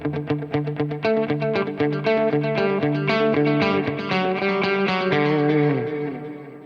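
Electric guitar played through a Line 6 POD Go preset with reverb and delay, a picked sequence of bright, ringing notes and chords trailing into soft echoes and a lingering wash of reverb.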